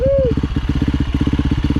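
A motorcycle rides over a bumpy bush track with a fast, even engine chug thudding in a close, loud rhythm, and a brief voiced exclamation at the start.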